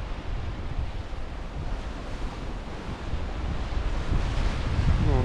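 Strong wind buffets the microphone on a seaside cliff, a continuous roaring rush with surf-like swells that grows slightly louder toward the end, no voices.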